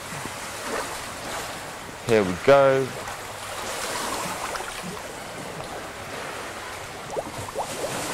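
Ocean waves wash against the shore during a coral reef field investigation, a steady broadband surf roar under a brief spoken phrase, with soft splashes rising near the end.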